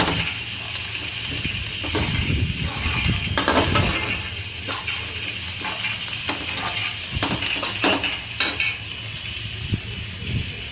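Tomatoes roasting in oil in a pan for a Marathwada-style sushila breakfast, with a steady sizzle throughout and repeated scraping, clinking stirs of a spoon against the metal pan, close and fairly loud.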